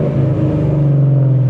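A loud Ford Mustang engine holds a strong, steady droning note under load during a brief pull, close and alone with no voices.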